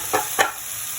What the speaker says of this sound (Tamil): இந்த பச்சை மிளகாயையும் வதங்க போட்டு விடுவோம்.